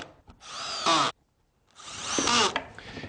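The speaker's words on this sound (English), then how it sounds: "when you drive the screw, it clamps the two pieces together, creating an extremely tight joint" Power drill driving a screw into a Kreg pocket-hole joint in wood, two loud whirring bursts with a rising pitch as the screw tightens, separated by a short pause.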